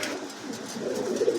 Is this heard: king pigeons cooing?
yes